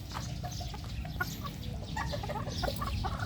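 Bulik gamefowl rooster, sire of a flock, gives soft repeated clucks close by amid faint farmyard background noise, with no talk.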